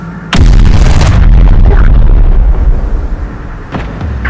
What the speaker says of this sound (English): The machines are bringing in heavy artillery.